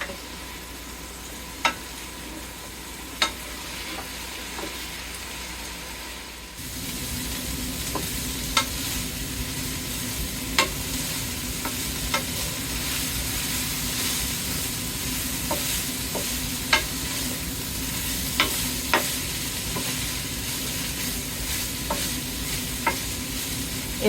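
Ground beef and potato hash with canned potatoes sizzling steadily in a skillet on a stovetop burner, with occasional clicks of a utensil scraping and stirring; the frying grows louder and fuller after a lid comes off partway through.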